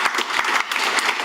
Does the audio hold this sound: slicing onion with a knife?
no